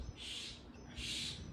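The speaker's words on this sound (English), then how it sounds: "dang, these birds," Birds squabbling outdoors at sunset give two faint, hissing, raspy calls in quick succession, with no voices over them.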